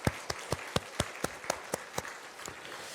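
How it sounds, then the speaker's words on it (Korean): A church congregation claps together for retired members, about four sharp, evenly spaced claps per second in unison, close and clear with no speech. "우리 한번 박수로 격려하겠습니다"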